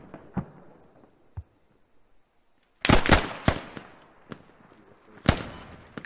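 A loud grenade blast in the military shooter Squad, a heavy burst followed by scattered sharp gunshot cracks amid quieter battlefield noise.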